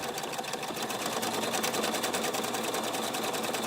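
A Husqvarna Viking Ruby Royale sewing machine stitches a buttonhole at a turned-down speed, giving an unbroken, rapid mechanical whir and needle chatter close up with no voices.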